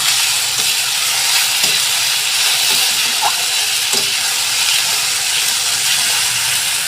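Spice paste fries in oil in a pan with a loud, continuous sizzling hiss, broken by a few soft scrapes of stirring; no voices.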